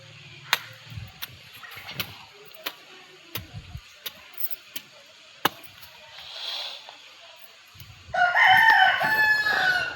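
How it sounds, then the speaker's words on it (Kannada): A rooster crows loudly and close by near the end, after a run of sharp, irregular clicks and knocks in an otherwise quiet outdoor setting. "ಈ ಕೋಳಿ ಈಗಲೇ ಹೋಗ್ಬೇಕಾ? ಅಂತೈತೆ."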